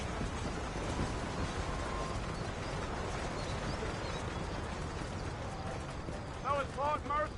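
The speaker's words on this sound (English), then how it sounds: "why are the horses so fast?" Horses galloping in the Western video game Red Dead Redemption: a rapid, continuous clip-clop of hooves, with a brief neigh near the end, under characters' talk.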